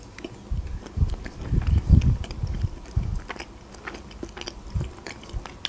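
Biting and chewing a frozen ice cream with yogurt inside, several close, soft crunchy bites clustered early, then quieter chewing in a hushed setting.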